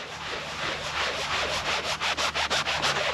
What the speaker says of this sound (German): wir reiben jetzt hier rüber